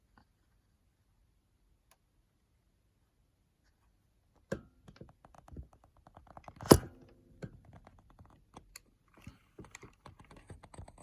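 Keystrokes on a computer keyboard while working in AmigaOS 4.1: silence at first, then a run of scattered close clicks and taps, with one sharper louder knock in the middle.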